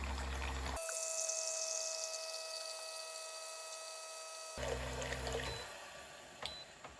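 A SimPure Y9 countertop reverse osmosis water filter runs with water flowing. A smooth, steady stream and a thin tonal whine hold for several seconds, then louder gurgling splashes before it tapers off.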